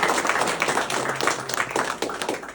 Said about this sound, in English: I'd just like to give a round of applause to Sheila.